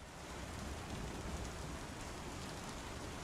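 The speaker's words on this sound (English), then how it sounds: "We got some rain." Steady rain in the Star Citizen game world during a storm, a dense, constant hiss of drops across the whole clip with a low rumbling undertone, no voices.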